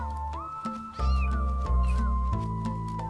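A three-week-old kitten meows repeatedly, clear high sustained cries with rising and falling pitch, close and loud, one after another with no pauses of silence and no speech.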